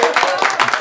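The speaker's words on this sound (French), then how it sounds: "un petit salve d'applaudissements pour Philippe Geluck" Studio audience applauds guest Philippe Geluck on a Belgian radio morning show, a short burst of dense, close clapping filling the room.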